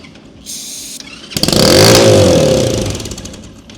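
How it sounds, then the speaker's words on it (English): An Amazon mini jeep fitted with twin turbos fires up and revs: a brief buzz, then a loud rising engine roar that peaks and slowly fades into a throbbing idle, heard close with no talking. "So in theory, now when it runs, both of the turbos should spin."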